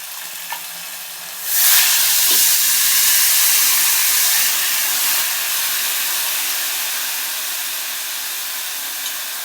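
Mutton drops into a hot pan and bursts into a loud, steady sizzle that gradually settles down, with a faint stir near the start.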